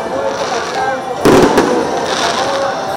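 Fireworks crackle and pop over a crowd at a Three Kings parade in Puebla, Mexico, a dense continuous rattle of bursts with one louder blast near the middle.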